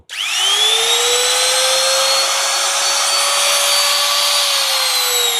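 An electric wood router/trimmer spins up quickly and then holds a loud, steady high-pitched motor whine close by, with no voices.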